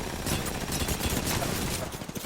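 Rapid gunfire from a .45 weapon in a first-person shooter video game, a dense, sustained burst of shots running throughout, close and loud with a faint voice underneath.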